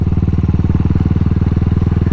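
A Cafe400 dual-sport motorcycle runs on a rough off-road track near San Roque Dam, its engine a loud, close, steady thumping pulse at an even rhythm with no speech over it.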